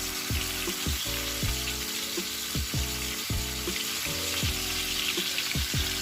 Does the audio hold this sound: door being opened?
no